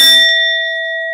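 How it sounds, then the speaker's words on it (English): A single bell struck once, ringing out with a bright metallic clang that settles into a sustained, slowly fading pure tone, close and fairly loud, with no voices. "This bell's on the way out"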